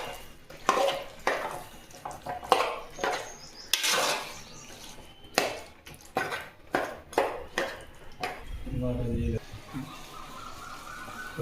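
Chicken being mixed with masala in a pot for chicken biryani: repeated wet stirring and scraping strokes, close and fairly loud, with a brief clatter of the pot near the end.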